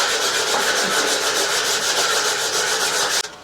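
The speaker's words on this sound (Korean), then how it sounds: "그래서 모서리들을 전체적으로 이렇게 사포를 다 해줍니다." Sandpaper rubbing along the edges of a wooden tissue box with a drawer, a steady close scratchy rasp in quick even back-and-forth strokes that stops abruptly at the end.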